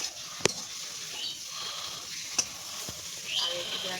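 Potato and bitter gourd fry in a pan, giving a steady close sizzle. A couple of sharp utensil clicks stand out, and the crackle swells slightly near the end.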